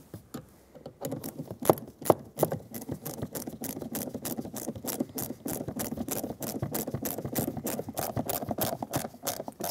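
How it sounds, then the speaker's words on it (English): A screw is driven into a plastic grab handle while replacing the mirror on a 2014-2021 Mazda 6, giving a steady run of close, rapid ratcheting clicks that last throughout. "Install the screw that goes down into the grab handle."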